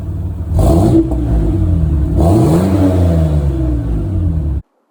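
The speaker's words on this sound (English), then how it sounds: "I do think it improved the sound a little bit on this little V6 engine" A standard 3-liter V6 in a 1990s Nissan D21 Hardbody pickup with a Flowmaster muffler revs twice with a loud, deep exhaust rumble, then settles between blips before cutting off abruptly.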